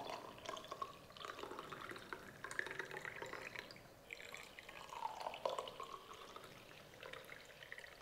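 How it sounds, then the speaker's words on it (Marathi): Chia-seed sherbet sweetened with jaggery is strained through a sieve into a glass, a steady liquid pour with dripping and trickling running throughout, faint and close with no talk. "आता यामध्ये तयार केलेलं सरबत गाळणीने गाळून घालायचं."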